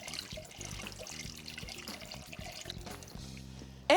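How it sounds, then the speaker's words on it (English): Whole milk poured into a flour-thickened bechamel sauce for seafood lasagna, a steady close liquid pour and trickle, moderately quiet with kitchen clatter, ending in a brief sharp sound. "Now I'm going to add 3 cups of whole milk."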